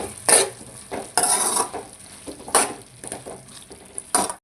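A spoon stirs eggplant, potato and tomato curry after chili powder and coriander powder are added, scraping and clinking against the pot in several quick, close strokes over a soft simmer, with no speech.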